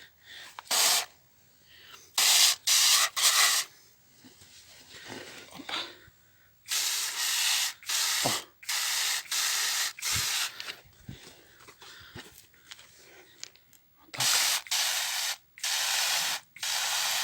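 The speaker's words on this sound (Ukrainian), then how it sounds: "Отак струменем її збиваємо" Bursts of a pumped water jet hiss against garden plants to blast off whitefly, several sprays of a few seconds each separated by short pauses, close and fairly loud.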